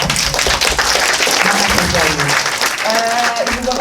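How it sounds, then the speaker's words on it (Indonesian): Audience at a talk event applauds, a dense, sustained burst of clapping from a crowd, loud and close throughout. A voice comes in over the clapping near the end. "Saya kira FMIA perlu mendapatkan aplaus yang luar biasa."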